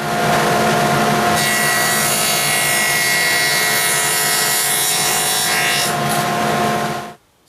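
A table saw with a stacked dado blade cuts a 3/4 dado in wood: a loud, steady, continuous cutting whine with grinding friction, running for several seconds before stopping abruptly.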